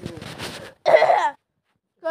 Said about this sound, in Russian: Кашлю.